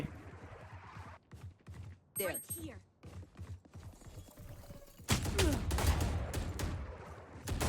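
Gunfire in Valorant, a sequence of sharp, close shots in irregular bursts, with a denser volley of rapid firing later on, heard under someone talking.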